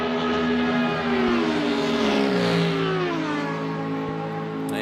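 A Lamborghini GT race car roars onto the back straight at the French Grand Prix GT World Challenge round, its engine climbing steadily in pitch as it accelerates hard, loud and sustained, then easing slightly as it passes into the distance.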